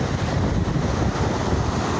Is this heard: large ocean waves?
yes